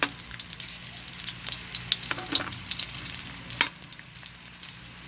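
Onions frying in a pan for chicken tinola, a moderate crackling sizzle with scattered sharp pops and stirring scrapes over a low background hum.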